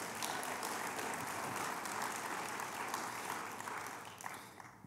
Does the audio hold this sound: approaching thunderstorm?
no